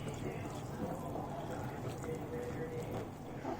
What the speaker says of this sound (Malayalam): ആദ്യം നമുക്ക് 1/2 കപ്പ് മിൽക്ക് ഒഴിച്ച് കൊടുക്കാം